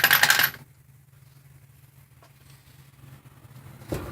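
Metal transmission pump bolts from a 4L60E set down together at the start, a brief bright clatter of metal on metal nearby, then near silence and a faint knock at the end.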